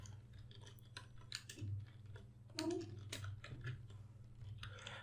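Typing on a computer keyboard while working in VEGAS Pro video-editing software, a light, irregular run of key clicks over a low steady hum.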